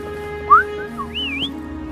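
A game character in Wuthering Waves whistles to call Foam over: a clear, melodic two-part whistle that swoops up and down, bright and close, over a low steady game background hum.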